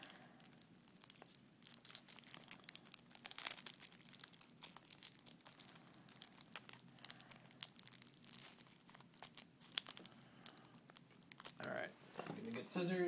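Crinkly plastic wrapper rustling and tearing in irregular bursts as a card deck is unwrapped close by, with someone talking intermittently over it.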